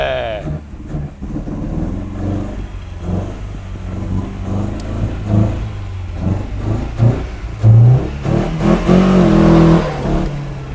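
Nissan 200SX drift car engine revving and pulling away nearby, a loud rising and falling engine roar with excited voices talking over it.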